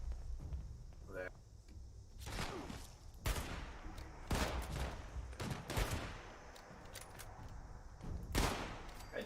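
Counter-Strike: Global Offensive gunfire sounds in several loud bursts of shots mixed with footsteps, heard under a player's voice.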